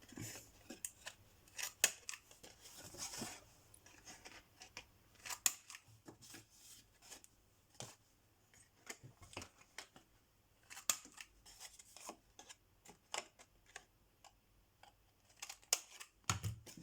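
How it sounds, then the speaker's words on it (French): A hand-held corner punch rounds the corners of a card, making sharp, isolated clicks and snips spaced irregularly, quiet and close, with soft paper handling between them. "Avec ma pince offerte par ma fille à Noël, je vais faire les coins."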